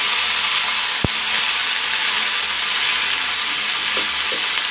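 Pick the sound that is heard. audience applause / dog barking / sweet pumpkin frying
sweet pumpkin frying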